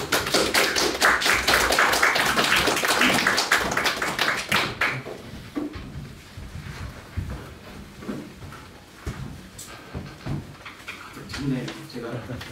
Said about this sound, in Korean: 목사님 나오실 때 환영하는 박수.